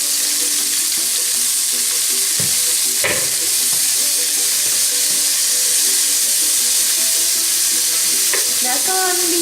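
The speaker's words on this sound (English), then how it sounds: "So I'm gonna caramelize my leeks first." Leeks sauté over medium heat in a pan to caramelize, a loud, close, continuous sizzle with occasional clinks and stirring scrapes.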